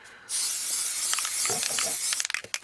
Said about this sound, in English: I'm just going to spray that.